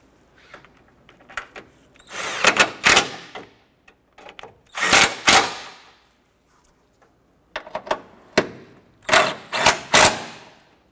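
A power tool tightens solenoid bolts on a Chevrolet Impala variable valve timing solenoid, giving sharp, close, rattling impact-style bursts in several short clusters separated by quiet gaps.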